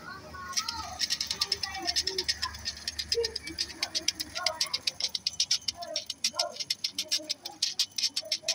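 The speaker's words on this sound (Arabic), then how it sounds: "شغل الفلاش ونشوف مع بعض صوت بكرة التكييف عامله ايه." A Daewoo Lanos idling with a noisy air conditioning pulley, a rapid close ticking and rattling that speeds up and grows louder and more regular, with voices audible in the background.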